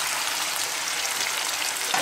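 White wine hits a hot pan of prawns and seafood for spaghetti with octopus, squid and slipper lobster, giving a loud, steady hiss and sizzle that continues evenly without any voices.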